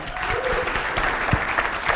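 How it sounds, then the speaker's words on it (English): A small session audience claps for a participant, a moderate patter of hands that stays fairly even, with a few louder individual claps, fairly quiet overall. "Give him a round of applause."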